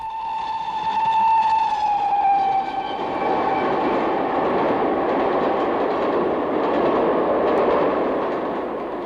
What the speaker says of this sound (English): Literally in a train.